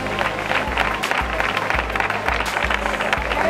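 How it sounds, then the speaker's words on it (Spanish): Crowd applause greets the men's podium at a super sprint triathlon in Pozoblanco: a steady, dense wash of clapping from a sizable audience, close and loud throughout, with a low rhythmic thump running beneath. "podio masculino, un aplauso para ellos"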